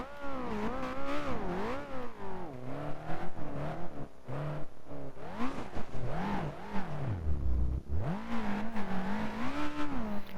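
An all-wheel drive Mitsubishi Evo rally car in the BeamNG.Drive game drives hard, its engine climbing and falling through repeated revs and gear changes, loud and up close with brief dips between pulls.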